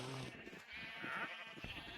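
Sheep bleat in a farming video game, with a couple of close, clear calls that waver and overlap over a quiet background.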